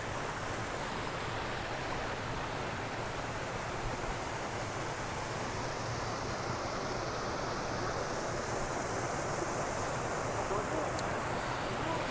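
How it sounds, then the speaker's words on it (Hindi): A small river and waterfall flow outdoors at a mountain temple site, giving a steady, even rushing wash of water that continues unbroken, with no speech heard. "यहाँ पर भी एक छोटी सी नदी बह रही है। देखिए झरना मेरे पीछे आपको नज़र आ रहा होगा।"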